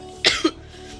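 A single short, sharp cough close to the microphone, followed by a brief throaty voiced tail and then quiet.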